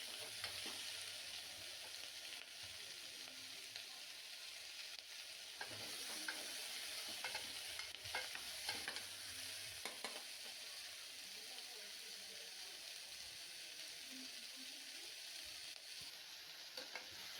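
Vegetables frying in butter in a pan for vegetable soup, a steady close sizzle with a constant hiss and occasional soft stirring scrapes, no talking.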